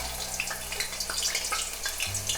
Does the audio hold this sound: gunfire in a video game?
no